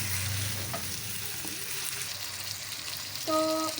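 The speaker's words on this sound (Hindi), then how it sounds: "तो चिकन और प्याज फ्राई हो रहे हैं बड़े अच्छे तरीके से।" Chicken and onions frying in oil for chicken karahi, a constant hissing sizzle with occasional stirring noises and a brief tonal clink near the end.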